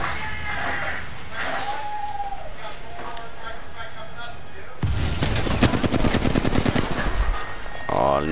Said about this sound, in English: My flatline shots are not on.